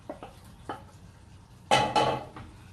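Shrimp tipped back into a pan of cream sauce, two loud clattering scrapes of utensil on cookware close by, preceded by a few softer clinks, with no talking.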